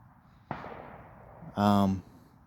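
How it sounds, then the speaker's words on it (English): A single faint firework bang cracks in the distance and fades, followed by a brief voiced sound nearby. "They're just fireworks."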